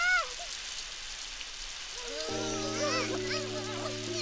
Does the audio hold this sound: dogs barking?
no